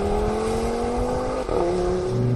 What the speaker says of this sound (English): There's a real pop and crackle to the exhaust.